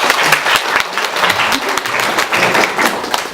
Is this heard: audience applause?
yes